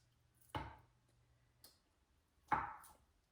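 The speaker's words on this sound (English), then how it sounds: "I'm gonna cut mine into cubes" Knife chopping Spam into cubes on a cutting board: two firm, close chops about two seconds apart with a lighter tap between them, in a quiet kitchen.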